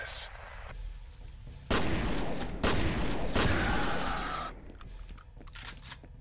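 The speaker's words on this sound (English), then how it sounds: "Gosh, these death sounds are great." Video game gunfire with over-the-top enemy death screams, loud bursts of shooting and yelling cries in close succession, fading to quieter game ambience at the end.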